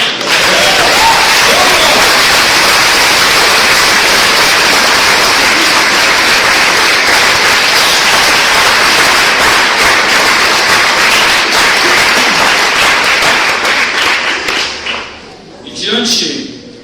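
A church congregation applauds together during a worship service in Paranaguá, a loud, dense and steady wall of clapping that fills the room for most of its length, then thins and tapers off near the end.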